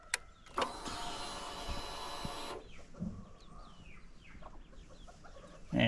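A new 2025 Honda Transalp motorcycle cranks with a loud electric starter whir lasting about two seconds, then settles into a quieter, low idle beneath chirping birds outdoors.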